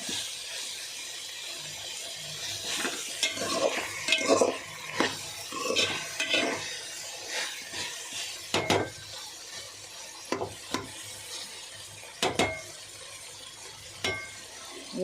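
Brinjal and potato curry being stirred in a pan, with irregular scraping and clacking strokes of the spoon against the metal over a soft, continuous sizzle. No one speaks.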